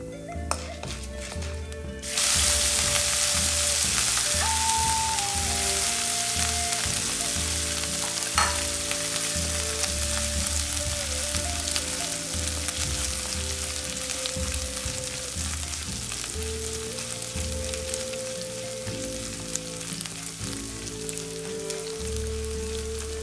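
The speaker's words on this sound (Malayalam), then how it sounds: "ഇഞ്ചി, പച്ചമുളക് ഇടുന്നുണ്ട്." Ginger and green chili sizzle steadily in hot oil in a pan for lemon rice, a continuous crackling fry over soft background music with occasional stirring scrapes.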